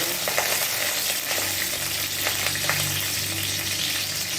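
Chopped ginger and chili stir-frying in a pan, a loud continuous hiss of hot oil with scattered scraping stirs and a low hum underneath, no voices.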